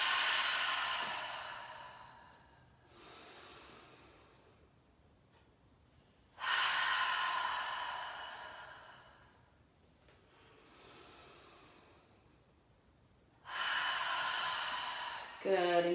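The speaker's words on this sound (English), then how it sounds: "take a deep breath right into your hands and your lower belly" Slow, deep breathing during a therapeutic yoga breathing exercise, with breath drawn into the hands and lower belly; several long airy inhales and exhales alternate in a steady cycle, close to the microphone with no speech.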